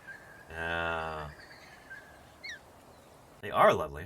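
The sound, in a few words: butcherbird quiet squeaking noises and calls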